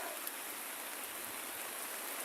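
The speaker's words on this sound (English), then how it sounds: "Yes, at the Boston Bay Beach in the rain, pouring rain." Pouring rain at Boston Bay Beach makes a steady, even hiss, soft and continuous throughout with no voices.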